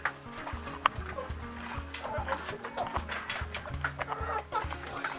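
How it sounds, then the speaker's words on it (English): Chickens and small chicks clucking and peeping outdoors, with a steady run of soft repeated clucks, fairly faint and close, with a few brighter chirps and no talk over them. "Sneaky little chickies."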